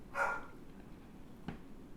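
A dog barks once from downstairs, followed by a shorter, fainter yelp a moment later, with a quiet room in between.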